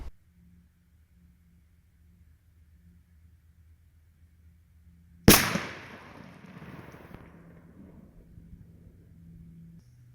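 A shotgun firing a turkey load at a 40-yard pattern test outdoors: one sharp, loud blast midway through a quiet stretch with a low steady hum, followed by a rumbling echo that fades slowly.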